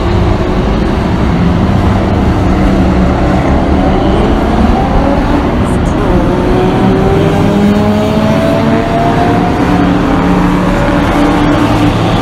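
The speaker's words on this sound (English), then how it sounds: "The camera's having a little trouble focusing on these cars ripping past us." Race cars at Sonoma Raceway during a 24 Hours of LeMons endurance event roar past in a loud, continuous engine drone, with pitch sweeps as cars approach and pass close by.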